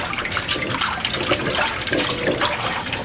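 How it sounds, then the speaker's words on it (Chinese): Boiled garlic cloves are rinsed in clean water, with continuous close splashing, sloshing and running water throughout and no speech. "简单的清洗下"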